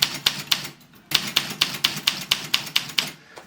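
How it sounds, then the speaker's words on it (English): A manual typewriter being tested clacks out a steady run of sharp, evenly spaced key strikes, about a dozen crisp hits with a brief pause early on, while the carriage advances with each press. "does this machine type, and when we type, do the carriage move forward?"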